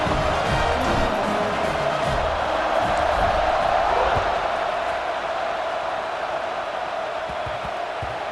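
A stadium crowd in an EA Sports football video game roars in a broad, steady wash of cheering during a kickoff, loud and continuous and easing slightly toward the end.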